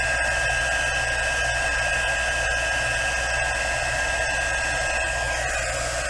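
A heat tool melts embossing powder on a Halloween bookmark, producing a constant loud fan whir and hiss like a hair dryer, held steady and close throughout with no talking.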